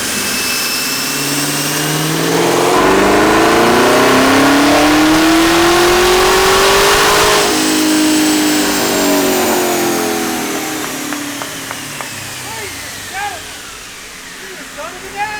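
An 850-horsepower Camaro ZL1 engine on 93 octane revs up in a long rising sweep, holds at a high roar, then winds down, with people talking nearby as it idles.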